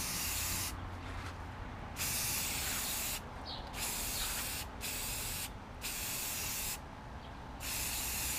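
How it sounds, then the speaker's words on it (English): Spray paint hisses onto the bare, rusty metal of a DDR arcade cabinet in several bursts, each steady hiss broken by short pauses, close and loud with no talking. "Cleaned what I could, so we could just start spraying."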